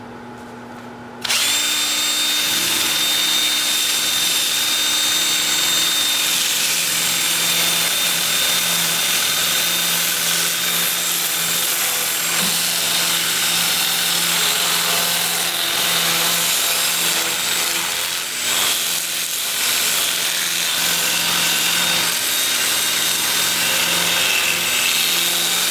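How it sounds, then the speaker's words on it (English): A 2-inch 80 grit sanding disc works the bottom and inside of a wooden bowl, starting abruptly after a brief quiet and running as a loud, steady power-tool whine with grinding texture throughout. "I'll switch to my 2-inch disc at 80 grit, and I'll sand the bottom and in here"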